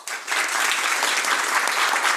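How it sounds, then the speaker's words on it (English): Audience at a public school board meeting applauding to welcome an elementary school PTA, a burst of clapping that starts sharply and holds steady and fairly loud throughout. "Let's please welcome and applaud Mill Creek Elementary PTA."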